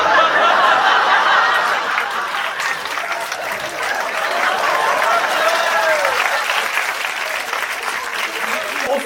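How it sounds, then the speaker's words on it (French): A comedy show audience claps loudly to vote, a thick continuous wave of applause filling the room, with scattered chuckles and snickers rising through it and some voices underneath. "Par applaudissement, messieurs, qui prend?"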